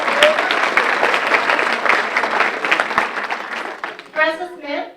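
An audience at an award ceremony breaks into sustained, loud applause that fills the room, then a voice cuts in as the clapping tapers off.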